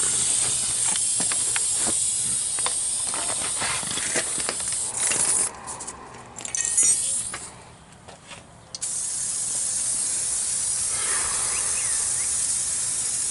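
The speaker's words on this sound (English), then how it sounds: "Go ahead and take your brake cleaner. Hose all that brake fluid off." Brake cleaner sprays in a loud, steady aerosol hiss while washing brake fluid off the front caliper of a 2006 Dodge Grand Caravan during a brake job, with a few brief pauses between longer bursts.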